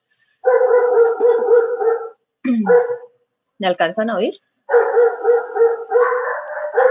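Dogs on a street corner bark and yelp in an agitated, sustained commotion, fairly loud and nearby, coming in long bursts with short pauses while a person speaks over the noise.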